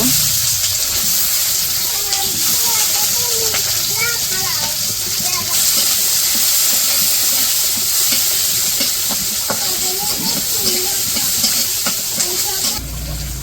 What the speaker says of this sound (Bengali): তো এই যে পেঁয়াজ কাঁচামরিচ ভাজা হয়েছে